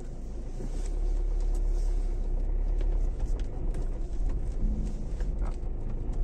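Engine of a four-wheel-drive car labouring along a rough dirt path, a steady low rumble close by that swells after the first second and wavers with bumps, with faint background sounds.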